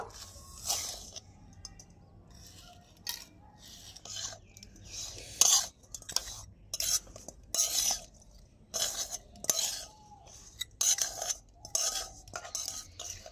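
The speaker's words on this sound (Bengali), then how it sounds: "আর এই নারকেলের পুরটাকে কিন্তু ঘন ঘন নাড়াচাড়া করতে হবে, নয়তো কিন্তু নিচে পুড়ে যাবে।" Coconut filling with cane jaggery stirred in a pan over low heat, a close, quiet series of scraping and scuffing strokes in irregular bursts with pauses between them, and no talking.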